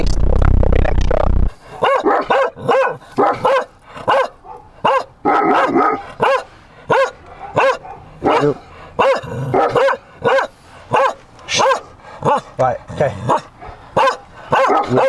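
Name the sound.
dogs barking at a dog boarding place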